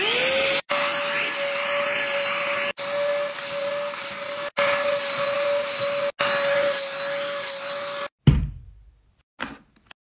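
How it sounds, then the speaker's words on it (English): A mini handheld vacuum cleaner runs on a small fluffy rug, giving a steady whine with a few brief dropouts as it is lifted, then cuts off near the end with a couple of clicks. "so I have a mini vacuum."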